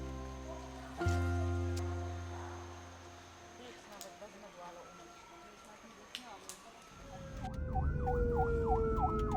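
An ambulance siren on a street in Bali rises in from about seven seconds as a repeating wail over traffic noise, preceded by a low engine rumble and some background activity.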